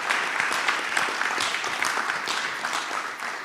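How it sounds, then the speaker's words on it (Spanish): A church congregation applauds a volunteer: steady, moderately loud clapping from many hands throughout, with no talk over it. "un aplauso aquí para nuestro voluntario"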